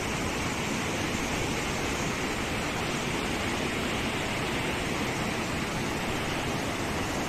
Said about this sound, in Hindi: किस प्रकार नदी यहाँ से निकल रही है।